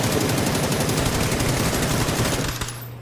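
Rapid, sustained automatic gunfire in a video game, a continuous dense burst, loud and close, cutting off abruptly near the end with a low hum lingering.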